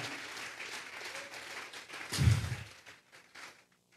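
A church congregation applauds during a Spanish-language sermon, with steady clapping that swells briefly with a low thump near the end and then fades out to quiet.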